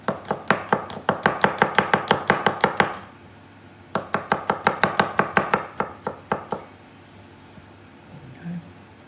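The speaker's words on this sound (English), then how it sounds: "chop these nice and thin" A knife slices radish thinly on a board in two quick, even runs of crisp, close chops, separated by a brief pause and then fading to quiet.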